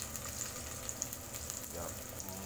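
Chicken liver going into a hot pan, with a steady close sizzle and frying crackle running throughout.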